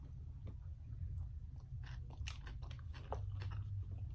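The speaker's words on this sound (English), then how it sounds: "Let's see what these pickles taste like." Pickles from Jacob's Pickles being bitten and chewed close to the microphone, heard as faint, repeated wet crunches and chewing sounds over a low background hum, with no talking.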